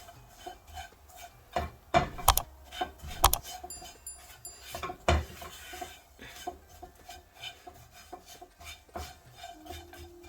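Grated coconut stirred and roasting in a pan, intermittent spoon scrapes and metallic clinks against the pan at an uneven rhythm, fairly quiet.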